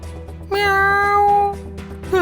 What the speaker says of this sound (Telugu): మీకు పిల్లి శబ్దం వినిపించింది కదా?